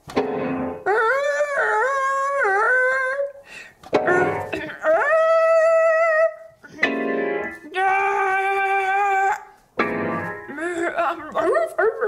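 A human voice imitates a wolf howl in a playful talent-show skit, several long rising and falling howls with short breaks between them, loud and close with no instrument under them.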